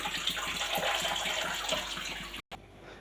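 About two kilos of fish are rinsed in water for an Andhra fish curry (chepala pulusu), giving a steady, close rush and slosh of water that cuts off abruptly near the end.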